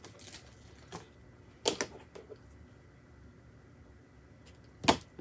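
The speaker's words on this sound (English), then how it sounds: "Just going to snip off an end here." Scissors snip a paper card for a pop-up butterfly bouquet: a few sharp, isolated clicks spread over several seconds, two close together, one near the end, over quiet room tone.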